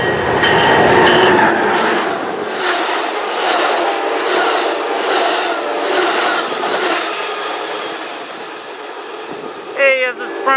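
A train numbered 777 hauls through Moorpark station with a loud, close, steady rumble and rail clatter that slowly eases, with a brief higher tone near the end.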